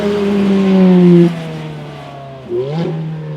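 A Ferrari F430 V8 revs hard up close, holds a high steady pitch, drops to idle, then blips sharply once more, loud and alone.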